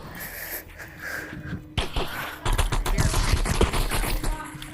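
Gunfire in the animal shooter game Animal Rivals, a quiet opening giving way to a rising stretch of rapid, close shots that keeps going to the end.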